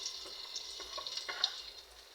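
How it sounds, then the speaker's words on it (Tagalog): Ginger sautés in a little hot oil in a preheated pan, a quiet, even sizzle with faint crackles and small pops spread through it. "Unahin natin igigisa ang luya"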